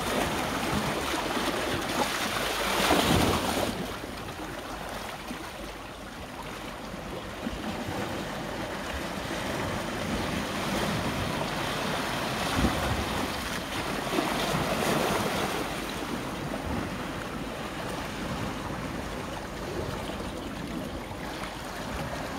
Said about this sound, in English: enjoying the sea doing its work.